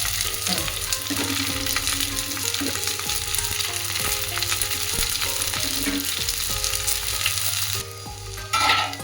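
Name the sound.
vegetables stir-frying in a pan for hakka noodles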